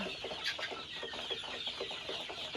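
Egyptian Fayoumi hens on a hobby poultry farm cluck continuously in a steady, busy chorus, moderately close, with no voices over them.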